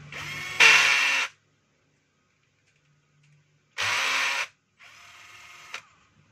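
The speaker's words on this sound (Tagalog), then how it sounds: "yung screw. Higpitan lang natin." A DeWalt D25899 10 kg jack hammer being reassembled: a power driver tightens a screw in short whirring bursts, two longer runs and a shorter one separated by silence, close and loud.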